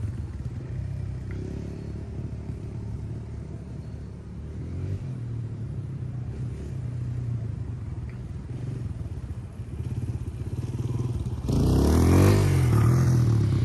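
A motorcycle holding a freestyle wheelie, its engine droning steadily and close with a rough rumble throughout, then swelling into a louder, harsher rev near the end.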